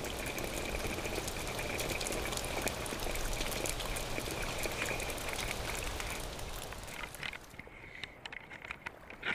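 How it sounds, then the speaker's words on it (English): A sudden rain squall pelts a life raft dinghy at sea, making a loud, continuous hiss of heavy drops and splashing that eases and thins toward the end. "a sudden rain squall hits."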